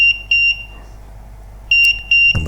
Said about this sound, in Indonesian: buzzer berbunyi beep 3 kali, kemudian jeda 1 detik